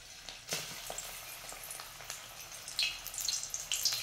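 Hot oil sizzles in a pan before colocasia-leaf vadis go in, a quiet, crackling fry with scattered small pops that grow a little busier toward the end.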